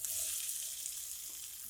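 Boiled, peeled potato chunks and okra sizzling in a hot pan during a spiced stir-fry, a short steady hiss of frying with no voices.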